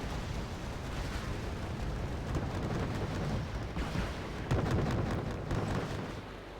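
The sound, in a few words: aircraft gun run firing, from the video game Wargame Red Dragon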